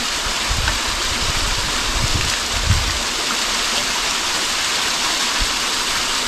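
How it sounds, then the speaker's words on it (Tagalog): Mountain water flowing continuously near a volcano, a steady loud broadband rush with a few low splashes, close by and uninterrupted, with no voices. "Libre po ang tubig dito, ayun, makikita nyo. Galing sa bundok."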